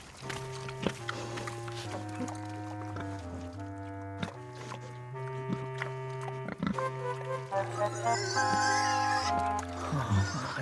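A cartoon pig grunts and oinks in short bursts over a steady, sustained musical score, the animal sounds brief and partly masked by the melody.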